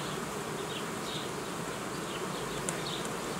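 Honey bees swarm over a hive frame during a beekeeping inspection of an Ursu hive with old queens, giving a steady, dense close buzzing with no talk.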